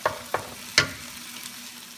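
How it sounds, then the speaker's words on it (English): Scrambled egg frying in a pan for Japanese fried rice, with three sharp spatula scrapes in quick succession over a faint, soft sizzle. "we are cooking our scrambled egg here"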